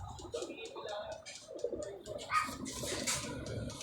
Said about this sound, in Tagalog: Hindi ko na kaya yung ibon na to.